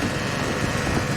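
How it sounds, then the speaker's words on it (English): A 1997 Honda Civic engine runs with a steady mechanical drone and a faint continuous whine of the belt rubbing near the timing cover, close and constant throughout. "it sounds like the belt's rubbing against it"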